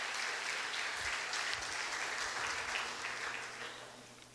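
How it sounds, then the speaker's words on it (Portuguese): A church congregation gives a sustained round of clapping during a service. The applause stays even for several seconds, then gradually fades toward the end. "Aplauda o nome do Senhor Jesus."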